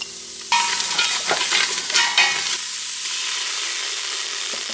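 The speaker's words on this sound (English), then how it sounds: "I'm gonna add in 1 onion." Chopped onion drops into a large pot for bean chili with a sudden loud sizzle and a few stirring scrapes, then settles into a softer, steady hiss of frying.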